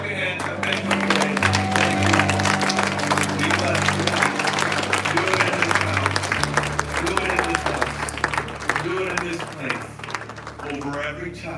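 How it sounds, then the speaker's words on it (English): A church congregation claps along during Sunday worship, steady rhythmic hand clapping layered over music and voices, sustained and loud before easing off near the end. "Come on, would you clap your hands and thank you."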